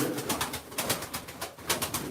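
A pigeon coos close by in soft, repeated throaty pulses, a steady few-note pattern with no talk over it.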